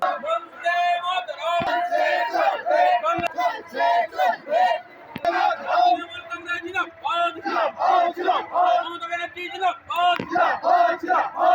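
A protest march in Jamalpur against medicine price hikes, with a crowd chanting slogans in loud rhythmic call-and-response bursts, voices rising and falling in regular waves close by.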